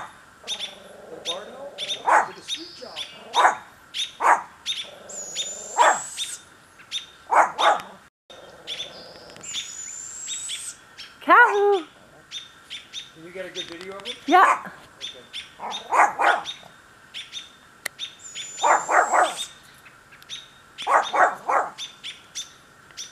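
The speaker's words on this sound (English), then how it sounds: "the robins are going, we always know they're around because the robins go really crazy" Robins call excitedly in a garden on Salt Spring Island, Canada, while barred owls are about, sharp repeated chirps and alarm notes coming in bursts over a quiet backdrop, with a dog barking intermittently among them.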